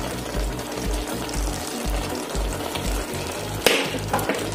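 Toasted, crushed dry spices, a mix of black pepper and fennel, fry in a hot pan with a steady, close sizzle over a rhythmic low thumping, and a sharp clatter near the end.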